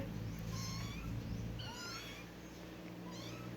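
A small kitten learning to walk gives a run of thin, high-pitched meows, three or four short rising and falling calls close to the microphone, tapering off into quiet background noise.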